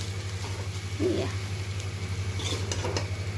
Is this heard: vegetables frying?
yes